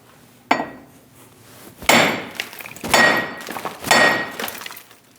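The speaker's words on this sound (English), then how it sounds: "we're going to tap on the side of the hub right here and try and get it to rock back and forth." Hammer blows against the steel hub of a 2001-2006 Chevrolet Silverado 2500 HD front steering knuckle, working the wheel bearing loose: four sharp, ringing metallic strikes about a second apart, close and loud, with no talk.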